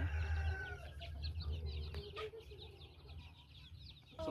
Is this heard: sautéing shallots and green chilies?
no